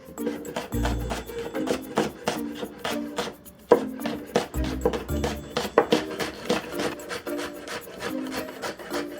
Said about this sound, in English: I'm just going to cut this at an angle.